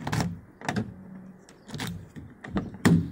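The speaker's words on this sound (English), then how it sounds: "door unlocks." Short mechanical clunks from the door lock actuators of a 2006 Cadillac CTS-V unlocking, a series of quick thuds and clicks close by, moderately quiet, without speech.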